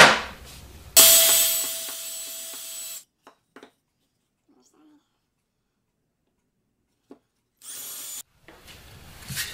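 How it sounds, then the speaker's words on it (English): A power drill boring holes in wooden roof pieces for a homemade suet bird feeder, a loud steady whine for about two seconds, then a quiet pause with small taps, and a second short burst of drilling near the end. "I've got my holes drilled for my roof."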